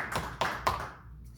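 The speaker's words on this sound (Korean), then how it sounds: "예수님의 오심을 우리가 박수로 환영하고" Three sharp, evenly spaced hand claps ring out in a church service, each fading briefly before the next, then the sound trails off into quiet.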